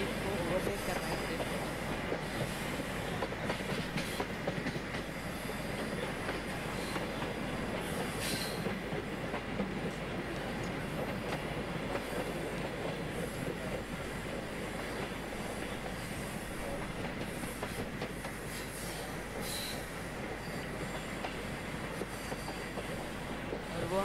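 Train rolling slowly on rails as it eases toward a loop line at a station, steady clickety-clack of wheels with a constant rumble and faint hiss throughout, close and continuous.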